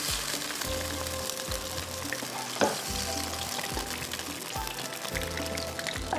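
Fish pieces frying in a pan for a capsicum butter fish dish, with a steady close sizzle and repeated stirring or scraping sounds throughout and no talking.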